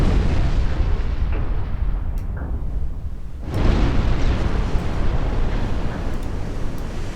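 Naval shell impacts and explosions in the Ultimate Admiral Dreadnoughts warship game: a continuous, dense rumbling barrage with booming bursts, a brief lull, then another heavy wave of blasts, loud and without speech.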